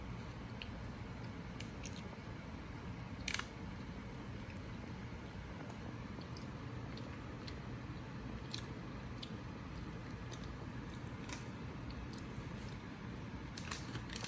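Steady close-up crunching and chewing of a crisp chocolate snack, Maltesers, with soft repeated bites and clicks over a low background hiss, no talking.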